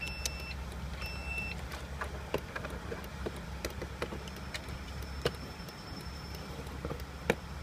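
A turn indicator ticks inside a Mercedes-Benz Sprinter van with the engine idling: faint, evenly spaced clicks repeat over a low, steady engine hum, and a thin electronic tone sounds now and then.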